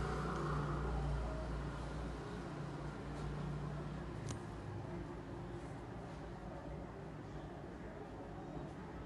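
A sewing machine stitching a fabric strip along a blouse front neckline, running as a continuous low whirring hum at a steady speed, with faint talk underneath.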